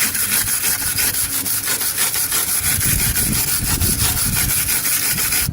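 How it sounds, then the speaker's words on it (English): A brush scrubs hard across a fresh weld on the A-pillar of a 2003 Cadillac CTS, making a continuous loud rasping scrape with quick back-and-forth strokes up close. "Hit it with the brush, see what it looks like."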